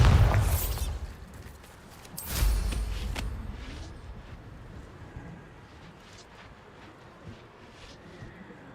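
Bombarda explosion spell cast in Hogwarts Legacy: a sharp, loud blast at the start, then a second booming burst with crackling debris, fading into a low rumbling tail.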